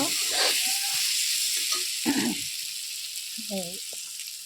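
Steady hiss of potatoes frying in a pan, with brief voice-like murmurs and a few clatters breaking through.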